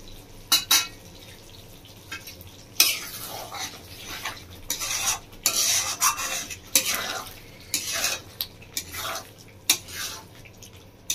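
A spoon works through doi potol curry in a pan, with irregular bursts of scraping and metal clinks against the pot over a low simmering sizzle, quiet gaps between strokes.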